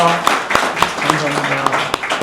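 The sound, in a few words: symposium audience applauding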